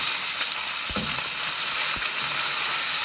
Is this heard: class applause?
no